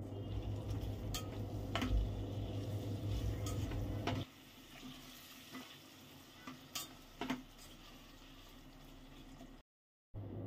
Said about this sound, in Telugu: కట్ చేసుకున్న టమాటాలు, కొంచెం కరివేపాకు, కొంచెం పుదీనా కూడా వేసుకొని ఈ టమాటాని కొంతసేపు మగ్గించుకోవాలి